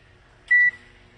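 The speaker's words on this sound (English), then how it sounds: "We're gonna put this in the microwave" A kitchen microwave oven gives a single short, clear electronic beep over a faint low hum, then falls quiet again.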